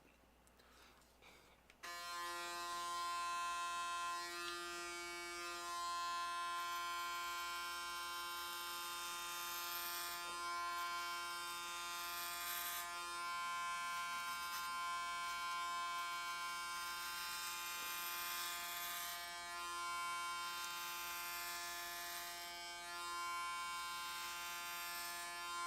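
Electric clippers shave a head down to 2 millimeters at a charity head-shaving event, kicking in after a brief quiet moment and then holding a steady, close, loud buzz for over twenty seconds with no talking.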